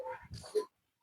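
A hunting-breed puppy gives a short run of soft whimpers and whines up close, rising to one slightly louder yelp before falling quiet.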